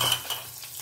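A brief, close scrape and clink of a spoon stirring turmeric-coated vegetables frying in a pan, with a soft sizzle underneath.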